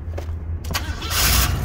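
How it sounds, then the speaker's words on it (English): A 1987 Cadillac with a 5.0 engine cranks, with a couple of thumps, then catches and fires up into a loud, steady idle close by. "That thing started up beautifully."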